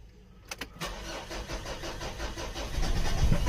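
A car engine fresh from a top overhaul cranking without firing, a few clicks and then a steady mechanical churning that grows slightly louder toward the end, with no speech.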